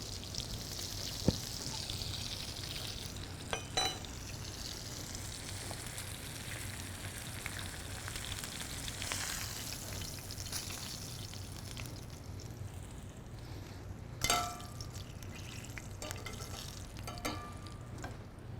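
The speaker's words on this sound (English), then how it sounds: "So that was a good sear, about 3 minutes on each side" A seared ribeye steak frying in a pan, a steady crackling sizzle at close range with faint kitchen clatter and a couple of sharp knocks, and no voices heard.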